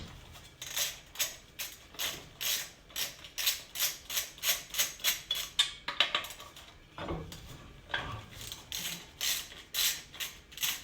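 A hand ratchet works two 10mm bolts off a 1994 Toyota 4Runner during an axle seal repair, giving quick bursts of clicking strokes in a steady rhythm with a short pause midway.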